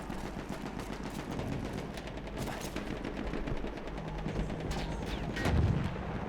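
Dense, chaotic gunfire in a World War I trench fight in the video game Battlefield 1, with rapid machine-gun bursts and rifle shots layered over a constant roar of battle and a deeper boom near the end.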